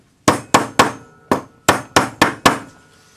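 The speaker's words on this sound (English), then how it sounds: "you can put it on your bench block and just hit it sideways with your rawhide hammer to flatten it" A rawhide hammer strikes a wire cuff bracelet resting on a metal bench block, eight sharp close blows in an uneven rhythm, each with a short ringing decay, and no voices.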